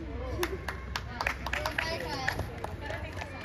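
Audience clapping at a baby shower celebration, scattered claps rising into brief applause under an ongoing hubbub of voices.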